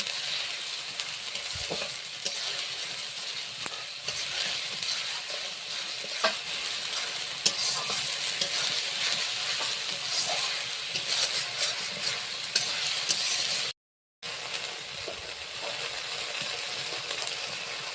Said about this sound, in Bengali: রসুনটাও ভালো করে নেড়ে চেড়ে ভেজে নিতে হবে।